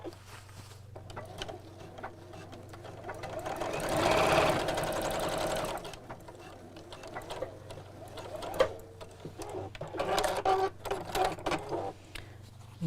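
A sewing machine stitches straight across the corner of a cross body bag, its rapid mechanical whir building to a steady, fairly loud run in the middle, then dying back to quieter handling clicks and short bursts.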